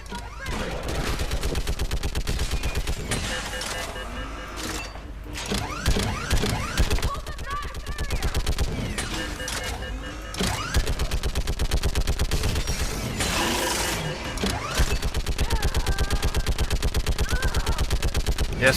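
A mounted gun hammers out long, sustained automatic bursts in the sci-fi shooter Mass Effect 3, dense rapid-fire rattling with brief pauses and layered battle clatter, mechanical clanks and creaks.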